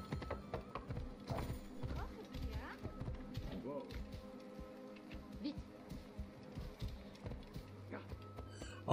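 Horse hooves clip-clop at a steady pace in Assassin's Creed Origins, with an occasional whinny, heard under game dialogue and ambient sound.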